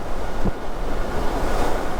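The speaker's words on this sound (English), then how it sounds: "Wow, it's so windy" Strong wind roars steadily across the microphone while riding a Velotric Fold 1 Plus folding electric bike, a constant heavy rush with buffeting gusts throughout, no voices.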